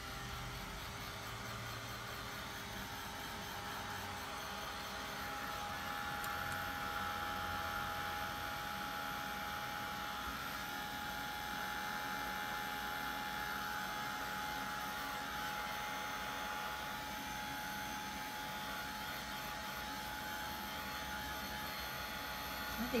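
A heat or drying tool blows steadily to quickly dry a watercolor card of stamped coneflowers, giving a continuous, even whooshing hum close by with no pauses for over twenty seconds.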